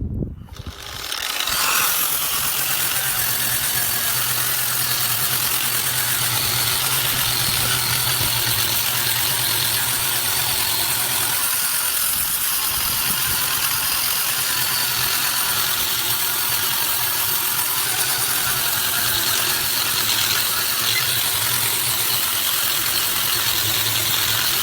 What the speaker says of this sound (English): Got my mask, got my grinder, so let's get some grinding done.